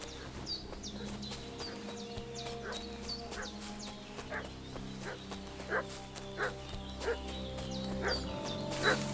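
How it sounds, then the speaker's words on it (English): In Kingdom Come: Deliverance 2, a dog barks in scattered bursts from some distance, mixed with bleating sheep and birdsong over a low ambient drone. "What's that dog making such a fuss about?"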